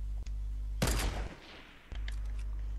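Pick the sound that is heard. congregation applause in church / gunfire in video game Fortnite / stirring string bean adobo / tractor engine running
gunfire in video game Fortnite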